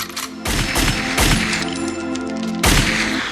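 Gunshot sound effects in a pop song: several sharp, loud cracks fire at irregular intervals over a sustained musical backing.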